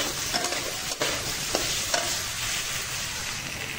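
Potatoes and mixed ingredients are stirred in a frying pan, a soft continuous sizzle with a few light scraping strokes of the spoon, no talking.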